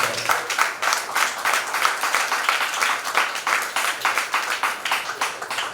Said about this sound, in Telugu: గట్టిగా చప్పట్లు పడుతున్నాను.